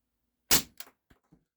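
A single sharp shot from an Umarex Ruger 10/22 CO2 air rifle firing Meister Coolgun 8.2-grain lead pellets: one loud crack, a quick mechanical follow-up, then two faint clicks, with silence before and after.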